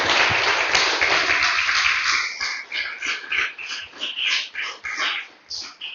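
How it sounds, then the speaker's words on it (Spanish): A church congregation claps for a preacher, a loud burst of applause that thins into scattered, uneven claps fading out over a few seconds. "Déselo fuerte el aplauso una vez más"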